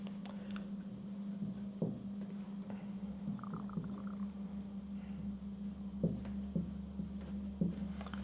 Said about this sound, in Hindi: तो मैं एग्जांपल के तौर पे लिखता हूँ आपके सामने